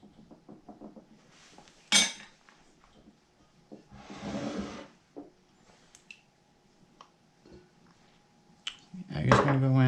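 An egg is whisked briefly in a small bowl for pumpkin spice cookie dough, with a quick run of light taps and scrapes, soft bursts of stirring and clinks against the bowl, a louder knock near the end.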